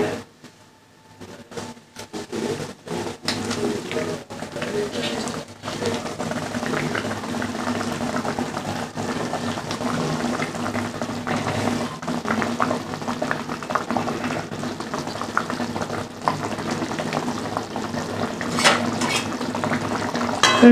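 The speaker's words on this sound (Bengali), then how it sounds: "দেখো গ্রেভিটা ভালোভাবে ফুটে গেছে, এবার আমি মাছটা দিয়ে দিচ্ছি এক এক করে।" A boal fish curry gravy with poppy seed bubbles and simmers steadily in a pan, with a constant close, wet bubbling texture and occasional sharp knocks and clinks from the pan and utensils.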